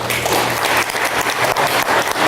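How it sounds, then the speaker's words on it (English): Audience applause at a school board honors event, a full, steady patter of many hands clapping, loud and continuous with slight surges, faint voices and a low hum underneath. "Let's give these champions a round of applause."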